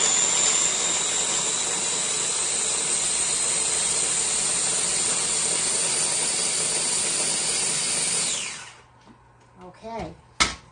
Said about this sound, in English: We'll put the cover on my little handy dandy blender, and we'll whir this up